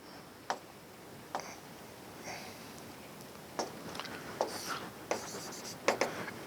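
Writing on a board during a maths lecture on definite integration, with faint scattered taps and scratchy strokes at irregular intervals in a quiet room.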